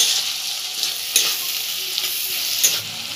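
Spices with turmeric and Kashmiri chilli fry for tadka dal, a steady close sizzle with a few scraping stirs and no voices.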